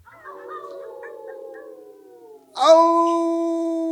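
A human voice imitates a werewolf's howl, starting with a low, wavering call and then swelling into a loud, sustained, tonal howl held for over a second, close and clear with no other sound.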